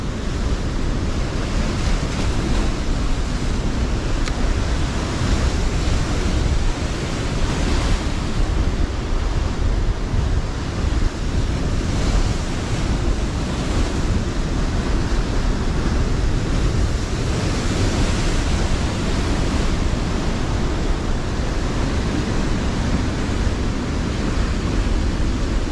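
Big ocean waves breaking near the shore, a steady, loud, broadband roar of surf with wind across the microphone, continuous for the whole stretch and with no voices.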